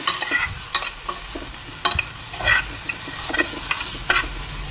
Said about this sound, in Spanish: simplemente se va a sofreír la verdura